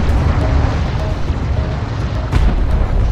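A light attack vehicle explodes in the real-time strategy game Homeworld: Deserts of Kharak, a loud, dense rumbling blast with sustained low roar and a crackling burst near the end.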